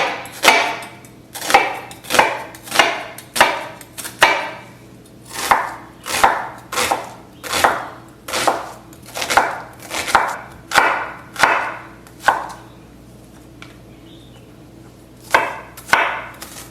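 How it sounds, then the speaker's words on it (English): Half an onion chopped with a knife on a cutting board, about fifteen firm, evenly spaced strokes, close and clear, with a brief pause near the end before the last few chops. "I have my onion. I'm just going to use half of that. So I'm going to chop it."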